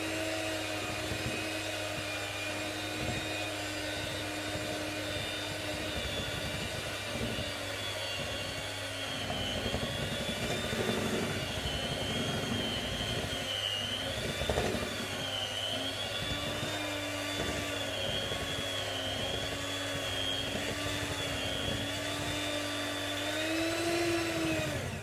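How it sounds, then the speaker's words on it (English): An electric mixer on its slow setting beats cake batter for an orange and ginger tray bake, giving a steady, loud motor whine with a faint wavering pitch that runs without a break. "Use an electric mixer and just put it on slow."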